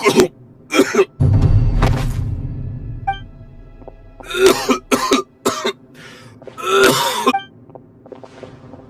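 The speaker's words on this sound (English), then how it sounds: "Why is he coughing so much?" A video game character, a man, coughs and clears his throat in several harsh, rasping bursts, separated by pauses with low background ambience.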